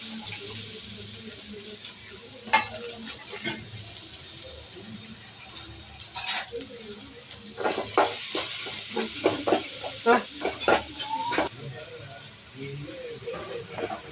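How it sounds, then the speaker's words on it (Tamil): Chopped onions frying in a pan for mutton curry, a soft hiss with clinks and scrapes of stirring growing busier toward the end, close by. "இதுலேயும் பொடி வெங்காயம் பெரிய வெங்காயம் வெட்டி வச்சுருக்கிறேன், அதை நம்ம போட்டுக்கலாம்."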